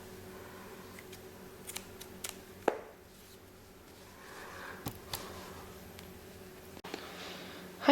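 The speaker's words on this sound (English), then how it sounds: "I cut this yarn" Scissors cutting crochet yarn, a few sharp close snips and clicks scattered over quiet room tone, faint and brief, with no talk.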